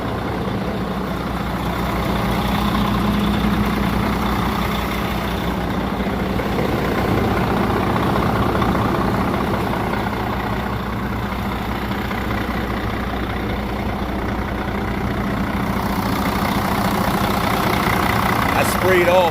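A Mercedes-Benz truck engine idles steadily and close by, a continuous low rumble that holds at an even level throughout, with faint talk underneath.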